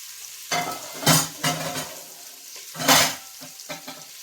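Onions and sausage sautéing in butter and olive oil in an Instant Pot, heard as a sizzle punctuated by several loud, scraping stir strokes in quick bursts, with no talking.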